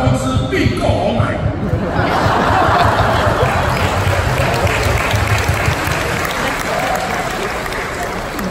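A concert audience at a company's 100th-anniversary show applauds loudly and continuously, a thick wash of clapping with a little chatter and scattered chuckles mixed in.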